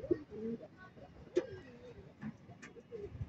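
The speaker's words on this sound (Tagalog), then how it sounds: "Ito yung kalapati ko yun oh." Soft, low pigeon coos repeat a few times over a quiet outdoor background, with faint higher chirps in between.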